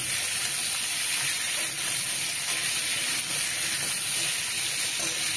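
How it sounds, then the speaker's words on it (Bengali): Mango pieces frying in a pan for a sour fish and mango dish, a loud, dense, unbroken sizzle and hiss with faint stirring scrapes underneath. "আমগুলো দিয়ে আরেকটু নেড়ে নিতে হবে"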